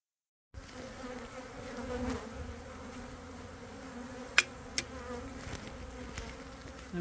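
Honey bees buzz steadily after a sugar shake test for Varroa mites, a dense swarm drone close by with a couple of sharp clicks partway through.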